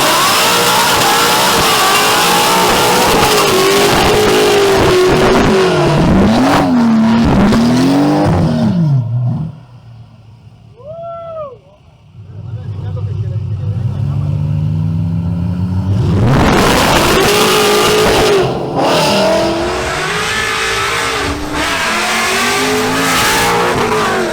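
A supercharged Ford Mustang GT and a BMW M240i drag race, their engines revving hard and loud. The engines cut to a brief lull, then roar back up under full acceleration.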